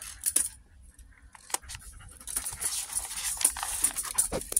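A pet dog moves and snuffles right beside the camera, with close rustling, jingling tags like keys and soft breathy panting in uneven bursts, no voices.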